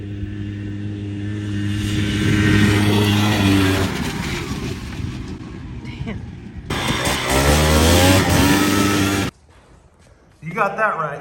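A 1985 Polaris Scrambler 250 two-stroke three-wheeler runs close by with a buzzy, steady engine drone that swells and revs, cutting out briefly near the end before picking up again, with voices talking over it.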